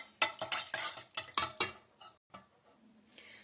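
Scraping, slapping strokes of a spoon working through thick choux-style dough in a bowl, several quick rhythmic bursts, then quieter fading movements.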